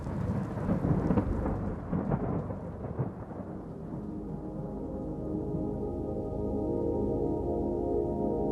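Thunderstorm rumbling over a mountain peak, with loud rolling thunder crashes early that fade into a steady wash of rain and low rumble.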